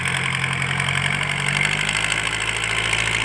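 A Kubota L50 tractor engine without a turbo, fitted with a loud aftermarket exhaust, idles steadily and close up with a deep, even rumble and no voices.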